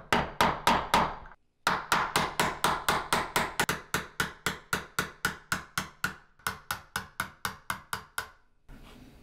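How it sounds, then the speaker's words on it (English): A punch tool is struck repeatedly with a hammer to drive a fret out of a 1950s Fender Esquire guitar neck, giving a steady rapid series of sharp knocks close by, with a short pause after the first few blows. "Sometimes it's easier just to pull it out the side rather than try to hammer it."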